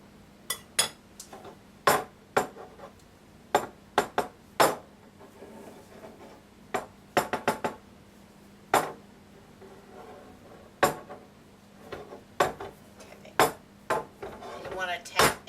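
A pan dusted with flour is tapped repeatedly to knock out the excess, giving a string of light, sharp metallic knocks in irregular bursts over a quiet room hum.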